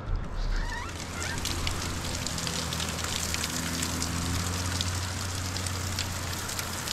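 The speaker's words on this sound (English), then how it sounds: "It's raining a little bit outside." Light rain falling outside, a steady, even wash of hiss with scattered faint drip ticks, continuous and moderately near, with no talk over it.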